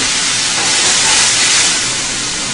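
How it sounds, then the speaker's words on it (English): White wine poured into a hot pan of sautéed mushrooms sends up a loud, steady steam hiss and sizzle that swells briefly and then holds. "After the mushrooms have been sauteed for a couple of minutes, we're going to add a little bit of white wine."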